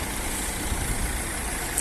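A 1.6-litre Nissan Qashqai car engine idling steadily, a continuous low rumble with broadband hiss, heard close and alone with no talk over it.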